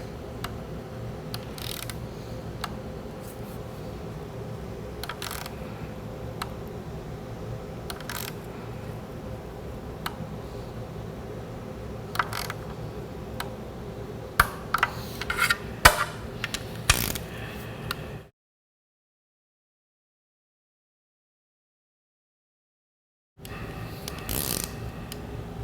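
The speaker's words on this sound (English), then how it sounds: "Now we torque to 120 inch-pounds" A torque wrench tightens bolts on a 4L60E transmission from a 2003 Chevrolet Silverado. Rapid ratcheting clicks run steadily at close range, with a few sharper clicks near the end before the sound cuts to silence.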